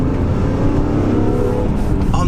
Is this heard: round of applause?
no